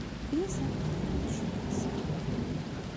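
Rain pours steadily in a thunderstorm while a low rumble of thunder rolls beneath, a continuous moderate hiss with no clear voices.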